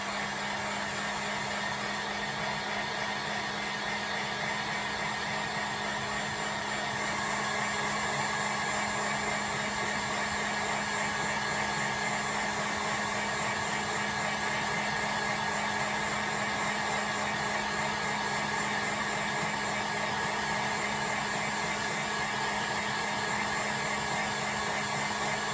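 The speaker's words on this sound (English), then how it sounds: "back in with my heat gun," A heat gun blows continuously on a full-body silicone doll, a steady close whooshing hum with a faint tonal whine that stays even throughout, with no voices.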